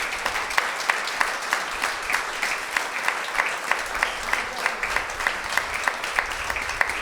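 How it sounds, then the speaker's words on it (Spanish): A church congregation claps together in a steady, sustained round of applause, the dense clapping continuing evenly without talk. "Démosle un aplauso al Señor."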